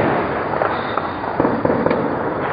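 Anti-aircraft weapon firing in rural Aleppo, heard as a dense, continuous crackle of sharp reports, fairly loud and sustained throughout, with a few stronger bursts standing out.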